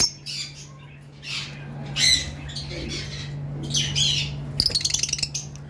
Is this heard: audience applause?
no